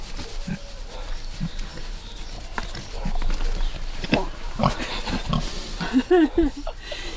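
A family of pigs at an animal rehabilitation centre, rescued from a private zoo, grunts and oinks close by, with short bursts that grow louder toward the end while people talk nearby.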